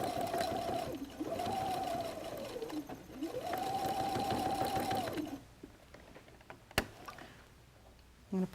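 Three bursts from a sewing machine back-stitching a seam on a messenger bag, with short pauses between the runs and a 90/14 sharp needle fitted. A quieter stretch of clicks and handling noise follows the stitching.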